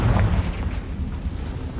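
A Confringo blasting spell goes off in the Hogwarts Legacy game as a deep, loud booming burst right at the start, then settles into a rumbling, fading roar with no voice over it.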